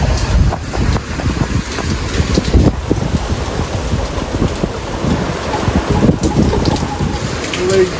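Typhoon Kristine lashing Quezon Province: heavy rain pours and strong gusts buffet the microphone in a loud, continuous roar with low rumbling surges, close and uneven throughout.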